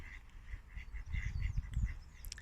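Ducks at a garden pond give soft, intermittent quacks at moderate distance over low rumbling outdoor background noise.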